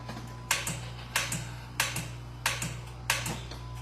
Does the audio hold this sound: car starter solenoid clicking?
yes